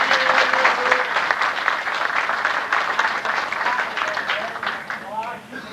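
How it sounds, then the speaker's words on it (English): Sustained applause from an audience at a veterans home fills the room, steady and loud, with voices talking and calling out over the clapping throughout. "Let's give him a round of applause."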